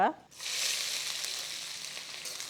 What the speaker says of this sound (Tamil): இப்போ இது பெரிய வெங்காயம் நல்லா ஓரளவுக்கு கோல்டன் ப்ரௌனாக வர அளவுக்கு நம்ம வதக்கிக்கணும்.